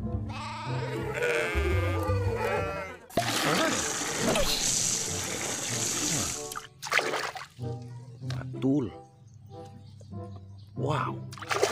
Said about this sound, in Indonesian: Wih, domba.